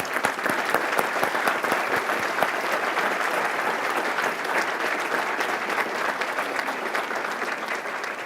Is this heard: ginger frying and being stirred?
no